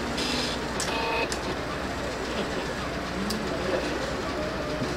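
A cutting machine slices an SVG design on a cutting mat, giving a steady mechanical whir with brief higher-pitched whines and clicks as the carriage moves. It runs continuously at moderate loudness with no talking.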